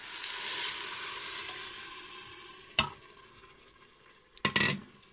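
Vegetable broth in a hot pan gives a bright hiss that fades, broken by two sharp clinks and a brief scrape as a spoon stirs, close and fairly quiet.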